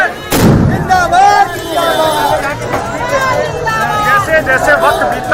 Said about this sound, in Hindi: पटाखों की आवाज आपको सुनाई दे रही होगी।